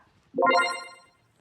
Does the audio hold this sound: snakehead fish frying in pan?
no